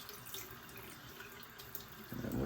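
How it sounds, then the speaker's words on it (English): Tap water runs steadily into a sink as a shaving brush is wetted, a quiet continuous splashing hiss that grows louder and fuller toward the end. "So all we'll do is wet the brush a little,"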